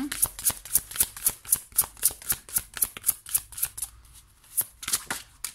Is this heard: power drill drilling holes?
no